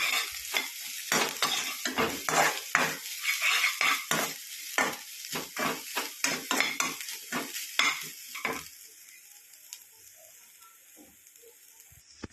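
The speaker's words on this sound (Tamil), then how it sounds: "தேங்காயை நல்லா நெய்யில் நல்லா கட்டி விட்டுடலாங்க" Grated coconut sautés in ghee, filling for poorna kozhukattai, with rapid, rhythmic spoon scrapes and knocks against the pan over a hiss; the stirring stops after about nine seconds, leaving only a faint, quiet sizzle.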